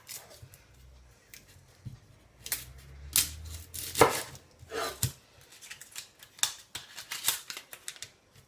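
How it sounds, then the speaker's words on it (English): An onion being peeled by hand for lentil dhal, close-up crisp snips, crackles and papery tearing sounds in irregular bursts with a low thud of handling on the counter, no talking. "we're going to peel this onion."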